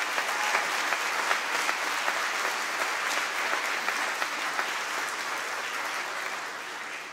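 An audience in the chamber at a state address gives a warm, sustained round of applause to welcome state officials, steady many-handed clapping heard from some distance that tapers slightly toward the end.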